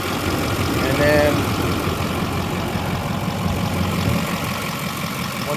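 A 2005 Duramax LLY diesel pickup truck, fresh from head stud, gasket and CP3 pump replacement, idles loudly and noisily in a steady, unbroken drone while people talk nearby.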